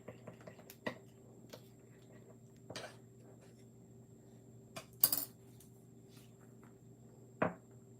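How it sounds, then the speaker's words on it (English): Candy melts stirred with a utensil in a bowl, giving faint, scattered clinks and taps with pauses between them, heard close against a quiet background with no talking. "I wanna give this a little stir first."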